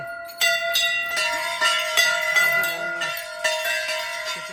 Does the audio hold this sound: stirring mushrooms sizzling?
no